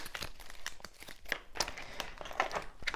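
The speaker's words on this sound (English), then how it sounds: "let me just pull out some action cards here" Board game action cards for Kiwi Chow Down pulled and shuffled close up, a steady run of papery crinkles, rustles and sharp card snaps with no talk.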